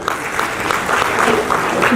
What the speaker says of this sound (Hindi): तालियां होनी चाहिए मनीष जी के लिए